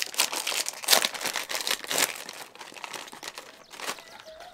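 Crinkly snack packaging, a bag of Indian chips, rustled loudly and close up in a run of sharp, dense crackles that carry on steadily without any talking.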